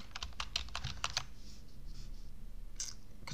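Computer keyboard keys pressed in quick bursts while using Word shortcuts, a cluster of crisp close clicks followed by softer scattered taps, quiet and with no voices.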